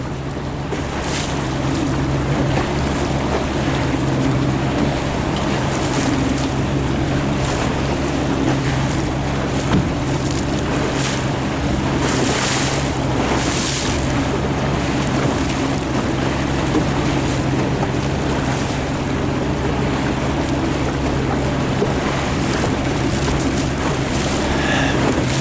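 Sailboats racing on a shifty lake, steady wind buffeting and water rushing against hulls in a continuous loud wash, with occasional brighter splashes and no voices.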